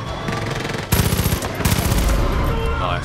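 Heavy automatic gunfire in the video game Far Cry 5, loud and close, with dense rattling bursts that surge twice in quick succession over a constant din of combat.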